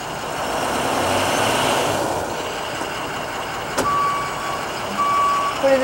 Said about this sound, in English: Put it in reverse, you have that backup beeper.